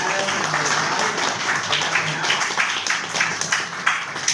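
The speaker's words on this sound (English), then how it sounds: "Round of applause for Adam" An audience applauding at a panel introduction, a dense, even wash of many hands clapping throughout, fairly loud and continuous with a few voices mixed in.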